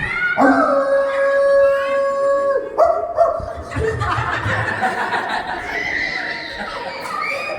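A person imitates a dog's howl with a long, loud wavering howl. Chuckling and laughter from a group follow, then murmuring talk.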